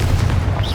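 Blast from the Confringo fire spell in Hogwarts Legacy, a single loud booming burst with a heavy low-end rumble lasting throughout, a brief rising whoosh near the end.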